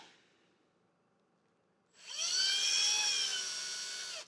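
After a quiet moment, a high-pitched drill suddenly whines up and runs steadily for a couple of seconds, close and loud, grinding into bone for taxidermy.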